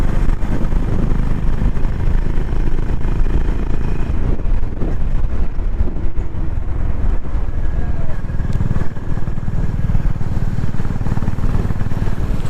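A Honda H'ness CB350 motorcycle cruising in fourth gear, below about 50 km/h on an incline, gives a steady, continuous engine drone with wind rush throughout, with a voice talking over it at times.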